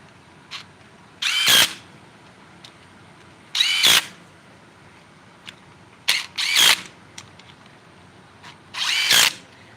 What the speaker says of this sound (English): just run them down with the impact gun